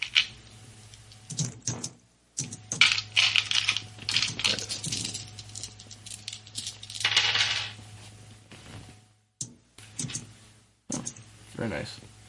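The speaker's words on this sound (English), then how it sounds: "I'm fuddling with dice here." Dice clatter and rattle across a table during a tabletop game in several bursts of sharp, small clicks, mixed with intermittent talking nearby.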